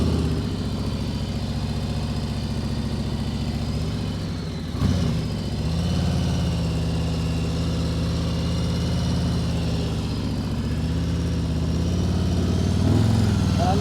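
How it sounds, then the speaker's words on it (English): Motorcycle engine running steadily as a new bike rides slow figure eights, a continuous mid-pitched drone that holds fairly constant with small rises and dips in revs, close and alone. "I'll just do some figure eights. It's kind of a practice with the new bike."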